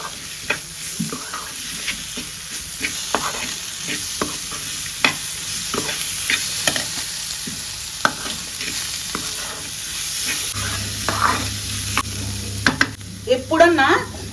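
A masala of onion, tomato, sesame, peanuts, dry coconut and ginger-garlic paste roasting in a pan, with a continuous sizzle under repeated scraping strokes of a stirring spoon, close up; a faint low hum enters near the end.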